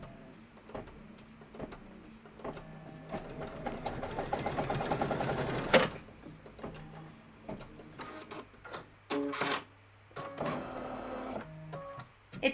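An embroidery sewing machine stitches out a design for a cup of cheer sew along project, a fast, even needle rattle that runs steadily for several seconds, stops, then resumes in shorter bursts with clicks and pauses between.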